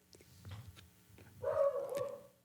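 A dog gives a short bark that trails into a whining yelp, fairly close and moderately loud, after a few quieter thumps and rustles.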